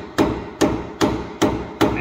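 A hammer strikes the end of another hammer to drive a bushing onto a Ford Bronco tie rod, five sharp metallic blows at a steady rhythm about every 0.4 seconds, loud and close with no talking.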